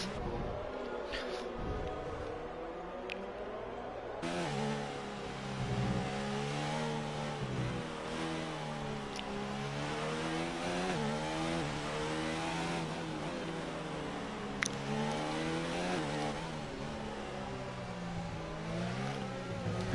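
Racing car engine in a video game, a steady mid-pitched drone rising and falling through gear changes on a flying lap of the Spain circuit, with a commentator talking over it throughout.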